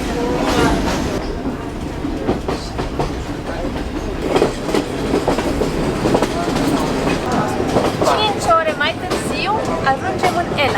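A passenger train travelling toward Ella, Sri Lanka, rumbles and rattles steadily from inside a carriage, with clattering wheels and creaking cars, while voices chatter over the noise.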